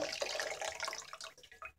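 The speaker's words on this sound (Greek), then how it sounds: "Θα το στραγγίξω πολύ καλά" A small cotton towel soaked in hot water is wrung out over a basin, giving close, soft splashes and trickling drips that taper off into silence.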